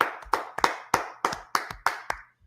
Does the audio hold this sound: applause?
yes